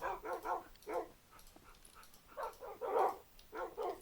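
Dogs bark in Minecraft, a series of quiet, short yips and barks in irregular clusters, with brief gaps between them.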